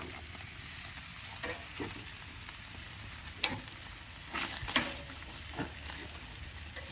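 Burgers sizzle on a charbroil grill, a soft steady hiss broken by a few sharp metallic scrapes and taps as a spatula turns the patties one by one; fairly quiet and close, no talking.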